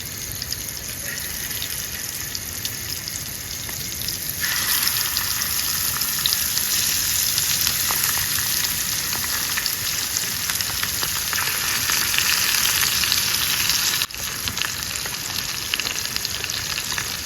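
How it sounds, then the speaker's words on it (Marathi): Loud, continuous sizzling of fish frying in hot oil in a pan outdoors at night, growing more intense partway through and holding steady. "आपण फ्राय करायला ठेवले"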